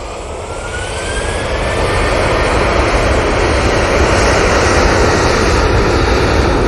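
A plane departing Manchester Airport for Rhodes roars loudly with jet engine noise, swelling over the first two seconds and then holding a strong, steady rumble with no talk.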